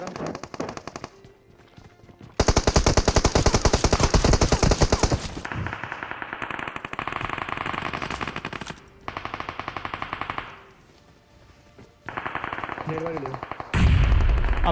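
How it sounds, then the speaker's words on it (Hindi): Automatic UMP and Bizon fire in a mobile battle-royale shooter, loud dense bursts and sustained rattling volleys in several stretches with brief pauses between them, no talk over the shots. "मैंने यहाँ पे यूएमपी की पूरी बुलेट फूंक दी लेकिन वो बच गया, तो बाइजन स्विच करके मैंने उसे नॉक कर दिया।"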